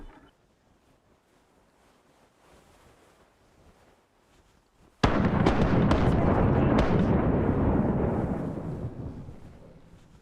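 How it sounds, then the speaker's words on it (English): A cannon broadside in the pirate naval game Rise of Piracy erupts after a quiet lull, a sudden loud boom followed by several sharp cracking shots and a long rumbling roar that slowly fades. "I love the cannon sounds."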